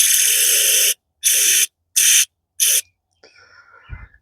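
Cleaner is sprayed through a Honda GCV 190 carburetor from a pressure washer in four sharp hissing bursts, each shorter than the last, followed by faint dripping and handling noises.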